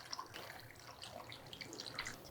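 Thick porridge-like flour paste poured into water kimchi made with napa cabbage and plum syrup, a soft continuous watery trickle and splash with faint drips, close and quiet, no voices.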